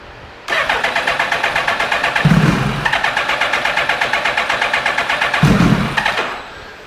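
A 2000 Suzuki Hayabusa motorcycle with new coils cranks repeatedly without firing, the starter making a fast, rhythmic churning in two long bursts, close and loud, before stopping.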